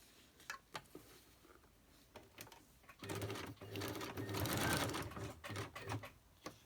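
Sewing machine stitching narrow lace onto a photo folder, starting softly with a few short bursts, then running in a loud sustained whir from the midpoint before stopping and restarting in short spurts.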